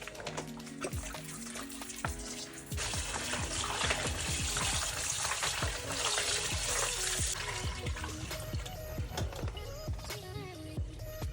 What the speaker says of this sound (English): So I'm going to use some vinegar now.